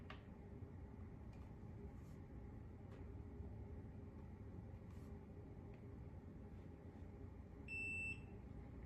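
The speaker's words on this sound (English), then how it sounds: "And then it's gonna beep at you again" A short electronic beep sounds from a Tesla healing paddles device as it finishes warming up, a single clear tone near the end after quiet background hum.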